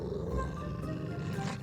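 A wolf growling as a sound effect in a spoken winter story, a low, rumbling snarl held for a couple of seconds at moderate volume with no talk over it.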